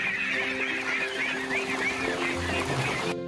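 A flock of ducks on a pond at a duck-and-fish farm, honking and quacking loudly and continuously in an overlapping chorus, close by and with no pause.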